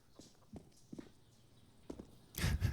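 Footsteps in CS:GO on the Inferno map: a few faint, scattered steps, then a louder cluster of quick steps right at the end.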